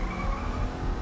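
A car in Batman: The Telltale Series ramming a barricade, a brief loud burst of engine roar and skidding tires lasting about a second.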